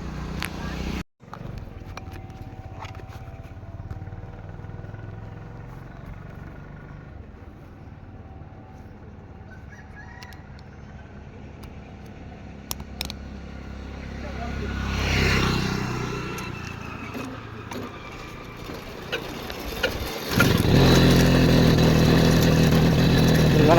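A TVS 50 moped rides nonstop along a hill road toward a temple in Kolli Hills, its small engine droning steadily throughout with wind rush, a passing swell mid-way and a louder, closer engine surge near the end.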